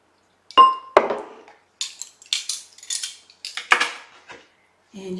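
Salt and baking powder being stirred in a glass bowl: a utensil clinks and scrapes against the glass in a quick, irregular run of bright taps, close by with short silences between them.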